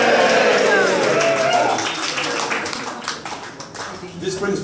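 Audience at a book launch cheering and clapping, a burst of loud applause with whoops that gradually thins out and fades over a few seconds.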